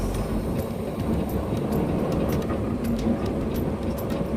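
A fully loaded 18-speed truck at about 77.5 gross pulls away in first gear, its heavy engine drone steady and close with low rumble throughout.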